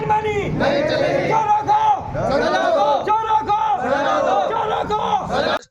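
Villagers at a sit-in protest against panchayat officials in Roorkee block chant slogans together in loud, rhythmic bursts, a massed crowd of voices rising and falling close by.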